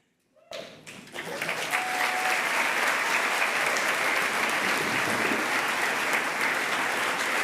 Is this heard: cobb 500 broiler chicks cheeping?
no